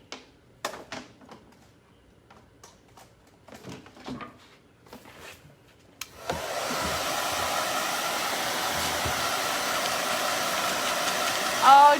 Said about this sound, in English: I gotta pull out this blow dryer so I can get this shaded.